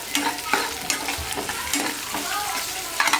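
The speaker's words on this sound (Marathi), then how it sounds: "आता त्यात टाकते हा कांदा" Chopped onion frying in a pan for chicken chili, a steady close sizzle with repeated scraping stirs of a spoon across the pan over about three seconds.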